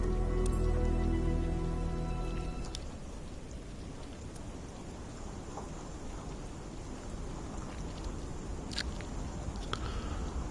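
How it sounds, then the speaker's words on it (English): Rain falls in Microsoft Flight Simulator 2024 on PS5 as a steady, even patter that fills in after a low tonal hum fades, with a few faint sharper ticks along the way. "It's raining."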